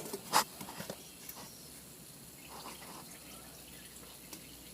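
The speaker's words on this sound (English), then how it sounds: "just undid the hoses up here and let the water drain down and put a pan under the car" Coolant drains from disconnected hoses on a Porsche 928 into a pan beneath the car: faint, sparse drips and a soft trickle with one sharper splash near the start, quiet and without speech.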